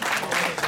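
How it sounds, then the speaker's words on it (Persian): An audience claps at a Ghadir holiday celebration with a teen competition, a dense burst of loud applause filling the room with no break. "یه تشویق ویژه بکنین"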